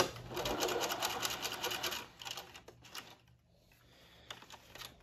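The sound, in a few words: sewing machine stitching elastic waistband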